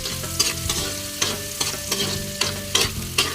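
Onions sizzle and fry in a pan for a crab stir-fry with squash and long beans, a steady hiss broken by regular scrapes and clanks of a spatula stirring, close and fairly loud with no talking.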